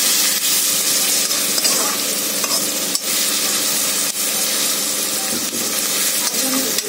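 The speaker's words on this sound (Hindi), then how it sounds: "अभी ये पक रहा है हमारा अदरक लहसुन और इसका पेस्ट" Ginger and garlic paste frying in a pan gives a steady, dense sizzle with a bright hiss, continuous and close, with no talk over it.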